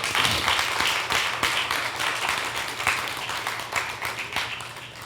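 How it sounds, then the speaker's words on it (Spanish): Congregation clapping during a church worship service, a dense, continuous wash of hand claps at fairly close range that carries on steadily and fades slightly toward the end. "aprenderás a darle el aplauso al Señor, claro que sí, dáselo al Señor"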